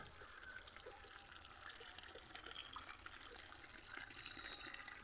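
Water trickles and splashes steadily onto plants in a rooftop garden, a soft continuous flow close by with no talking.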